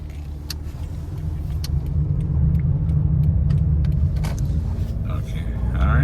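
A 2012 Scion iQ drives down a street, its steady low engine and road rumble heard from inside the small car, with a few light clicks and rattles and no talk over it.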